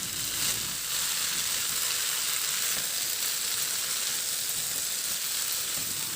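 Vegetables and scrambled egg sizzle steadily in a hot pan as they are stir-fried, a continuous close hiss with faint scraping, no talking.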